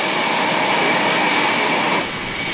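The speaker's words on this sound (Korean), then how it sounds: "경남구에서는 KF-21이 엄청난 굉음과 함께 엔진을 가동하고 있는데요" KF-21 Korean fighter jet engines running up on the ground before a taxi test, a loud steady roar with a broad whine that dips slightly near the end, close by with no talk.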